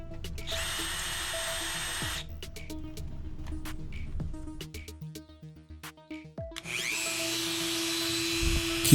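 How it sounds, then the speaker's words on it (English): A Dremel rotary tool fitted with a carbide burr whines steadily at high speed while grinding out stuck Mavic spoke nipples in a bike rim, then pauses amid handling clatter before spinning up loud again. "at that point, I start using the Dremel"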